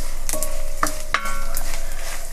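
Spices for a dry fish gongura curry fry in a pan, a close, steady sizzle with a few sharp scraping strokes of stirring.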